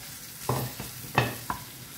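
Small prawns being stirred into an okra masala in a pan, with a low quiet sizzle and three distinct scraping stir strokes, the middle one loudest.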